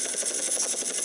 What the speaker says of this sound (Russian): Мне этот вертолет очень нравится